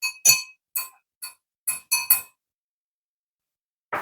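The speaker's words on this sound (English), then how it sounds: "Give it a bit of stir just to get the honey dissolved" Metal spoon clinks against a glass of ginger tea while stirring in honey, seven sharp bright taps in quick irregular succession, then a pause before one more faint contact; no talking.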